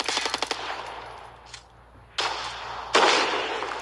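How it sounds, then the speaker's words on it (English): Gunfire in a video game match: several rapid shots opening the moment, then two louder, sharper bursts later, loud and close with no talk over them. "BAdnOmAd sees CrabNoMad and takes shots"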